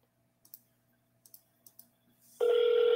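An unanswered telephone call: a few soft clicks, then a loud steady ringback tone cuts in near the end and holds, with no voice answering.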